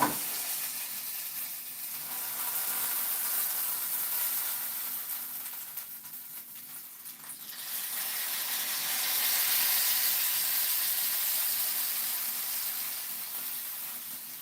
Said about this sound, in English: Just sloshing oil around